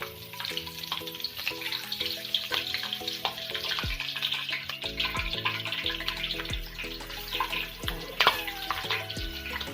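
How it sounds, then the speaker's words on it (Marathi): Slit green chillies frying in hot oil alongside crispy onion pakoda, a continuous bubbling sizzle with scattered crackles and occasional tonal hums and drops, close and steady, with no talking. "कडकडते असं तेल तापलेलं आहे आपलं त्यामध्ये आपण आता मिरच्यांना कट मारलेले ते मिरच्या तळून घेऊ"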